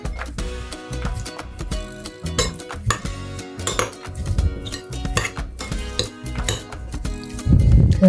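Rice being mixed in a bowl with utensils while making onigirazu sandwiches, rapid clattering scrapes and clinks against the bowl, loud and close, with uneven bursts and a heavier knock near the end.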